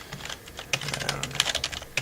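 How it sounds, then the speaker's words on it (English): Keys clatter on a computer keyboard in a quick, uneven burst of taps, close and fairly quiet, with a few louder keystrokes standing out. "Typing."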